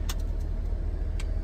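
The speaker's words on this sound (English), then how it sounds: "Can hear, this is a very, very quiet engine." A 2018 Isuzu NPR gas truck with a landscape box body idles very quietly as a steady low rumble, with a few faint clicks or rattles on top.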